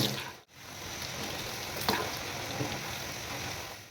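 Potato chips fry in hot oil in a pan and are stirred with a spoon, making a dense steady sizzle close by, broken by a brief drop near the start and a scraping stir partway through.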